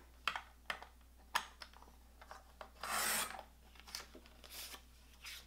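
Cardstock trimmed on a WRMK tab punch board: a series of sharp, close clicks and snips, then a longer rasping cut partway through, followed by a few softer taps.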